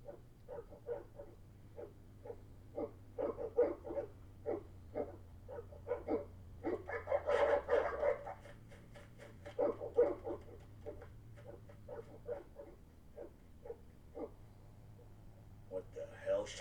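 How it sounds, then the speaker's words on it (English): Evil dogs in The Witcher video game bark and growl in repeated rhythmic bursts over a low rumble, growing busier in the middle, while voices talk over them. "Evil dogs."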